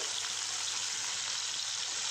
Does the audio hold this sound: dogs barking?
no